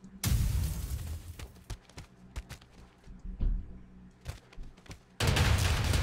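Ship weapons firing in the space game FTL, a string of sharp laser and gun blasts in quick irregular bursts, ending in a heavy sustained explosion roar as the enemy ship is destroyed.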